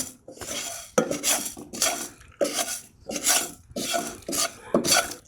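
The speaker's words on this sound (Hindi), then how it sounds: "इन सब चीज़ों को अच्छी तरह से भून लें।" Dry ingredients for a homemade slimming powder tossed in a pan: a spoon scrapes and clatters against the metal in six or seven rhythmic strokes, close and fairly loud, with no talk.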